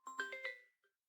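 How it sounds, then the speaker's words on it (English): A mobile phone rings indoors with a short melodic ringtone of four quick chiming notes and a brief fifth tone, quiet and close, with no talking. "Oh, hey, that's my phone."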